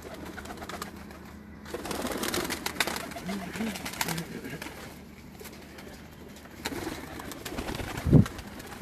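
Pigeons coo on a rooftop, soft low calls recurring under steady outdoor background noise with a brief louder thump near the end.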